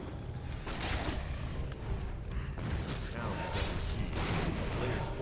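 Flak cannons fire in a strategy video game, with dense overlapping booms and rapid bursts roaring steadily throughout while a commentator talks over them.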